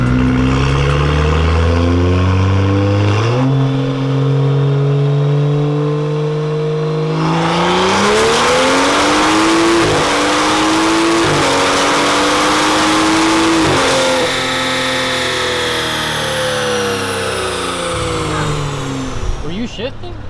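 A turbocharged BMW E30 engine revs hard on a dynamometer, climbing through the gears with steady rising pitch and brief shift dips, loud and close, with people talking faintly underneath.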